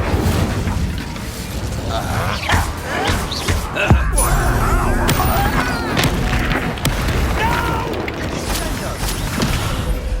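A fire spell blasts during Hogwarts Legacy combat, a sharp whooshing burst set among rumbling effects, creaks and clanks, with voices talking over the action.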